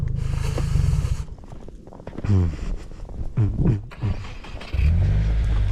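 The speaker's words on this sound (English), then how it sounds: "Oh, look at that exhaust." A 400 HP Subaru WRX revs in a winter storm, its exhaust barking through several sharp, loud throttle blips with gurgling pops between them, close by, with a low rumble at the start and end.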